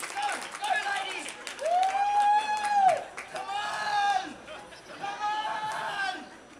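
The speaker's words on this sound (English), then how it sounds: "now the ladies start clapping, ladies start cheering" A crowd of women clapping and cheering, with scattered applause and raised voices mixed with chatter and laughter, rising and falling in short bursts.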